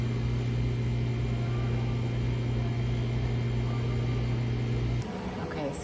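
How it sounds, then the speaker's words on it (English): A microwave oven in a hotel lobby hums steadily while heating food, a constant drone that cuts off abruptly near the end, leaving quieter room noise. "taking my food and warming it up in the microwave, which is in the lobby"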